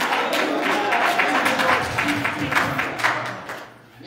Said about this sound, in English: Can you clap your hands and say hallelujah?